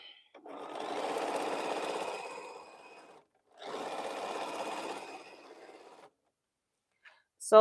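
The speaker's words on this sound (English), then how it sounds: "I just sewed all of these pairs and now I'm sewing them together, rotating one like so." Domestic sewing machine stitching pairs of quilt pieces together, two steady whirring runs of about three and two and a half seconds separated by a short pause, then a brief clack near the end.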